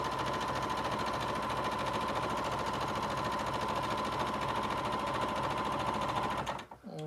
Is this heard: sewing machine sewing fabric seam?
yes